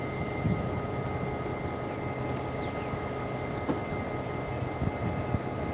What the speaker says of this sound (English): we know right now CSX is going to be coming right at you on this camera